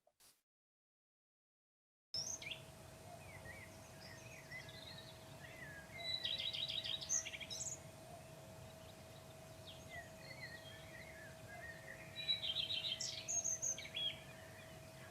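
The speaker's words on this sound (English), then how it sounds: "Do you like the sound of the birds?" Outdoor birdsong recording played back to a class, with repeated chirping calls and bright trilling bursts over a steady background hiss and faint insect-like buzz, starting after a short silence.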